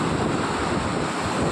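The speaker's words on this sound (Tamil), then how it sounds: "அலைகளோட சத்தம் கேட்குதா உங்களுக்கு?" Ocean waves rushing onto a beach, a steady roar of surf heavily mixed with buffeting wind noise on the microphone, loud and unbroken, with no voices.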